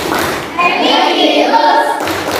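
A classroom group of children performs a rhythmic clapping chant together, the tepuk PPK routine, with loud hand claps and thumps mixed with young voices in a dense, steady burst.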